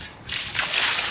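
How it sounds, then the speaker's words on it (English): Dirty water dumped out of a chicken waterer sitting on a heated base, a short near slosh and splash that swells after a quiet start and runs steadily to the end. "And dump some dirty water out."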